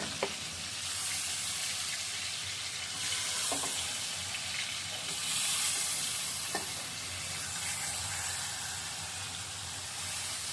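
Chicken pieces frying in hot oil in a pan, a steady broadband sizzle that runs throughout, with a few sharp clicks of pieces being dropped in or moved around.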